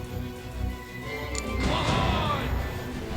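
Cannon fire from a ship in The Pirate: Caribbean Hunt, a heavy crashing blast rolling in midway over a low rumbling sea ambience, followed by a sustained boom.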